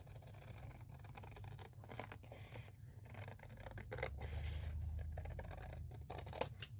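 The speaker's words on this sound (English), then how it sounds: "And then you're going to cut this side as well." Scissors cut paper for a craft typewriter, with repeated close snips and crisp paper rustles at a quiet level and no talking.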